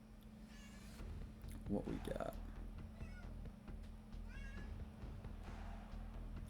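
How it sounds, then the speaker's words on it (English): A pet cat meows several times, fairly loud and close, over background game sounds while someone speaks briefly. "If you can hear my cat in the background"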